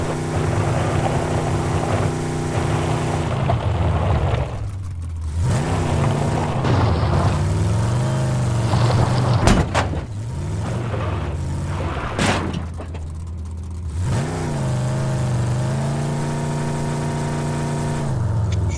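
Car engine in Ring of Elysium, a steady droning hum with shifting pitch as the vehicle drives, loud and continuous with gear-like changes and occasional bumps, no talking.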